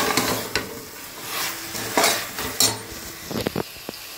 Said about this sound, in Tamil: கேரட், பீன்ஸ் போட்டாச்சு. ஒரு கிண்டும் எப்படி இருக்குன்னு பார்ப்போம்.